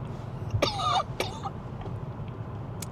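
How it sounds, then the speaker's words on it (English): A sick person coughs and clears their throat in two rough bursts close to the mic, the first longer and louder, followed by quiet room tone. "Still coughing."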